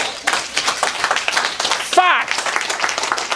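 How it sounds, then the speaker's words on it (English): Audience clapping at a motivational talk on overcoming failure, with hands slapping in an uneven patter while voices and a brief whoop carry over it. "Give yourselves a round of applause."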